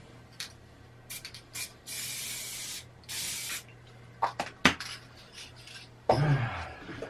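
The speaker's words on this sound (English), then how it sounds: "use some spray glue" Several short hissing bursts from a can of spray glue in quick succession, mixed with a few clinks and rustles of handling close by.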